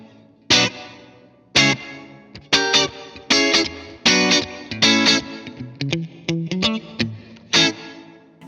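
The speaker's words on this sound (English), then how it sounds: "The reverb I chose is a hall" Electric guitar played through an Alexander Space Force pedal set to hall reverb, a series of struck chords and single notes, each blooming into a wide, lingering tail that overlaps the next, moderately loud with no voices.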